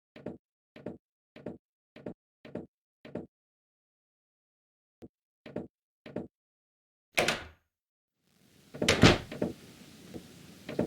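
A door opens in the adventure game Chaos on Deponia: a run of evenly spaced knocks, a pause, a few more knocks, then a louder burst of the door swinging open followed by movement.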